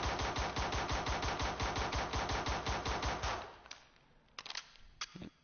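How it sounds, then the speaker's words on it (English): An M17 pistol in the America's Army video game fires a rapid, evenly spaced string of loud shots for about three seconds, then a few scattered clicks and clatters follow. "let's check the M17 out. I'll just do 1 clip since there's 22 bullets in this gun"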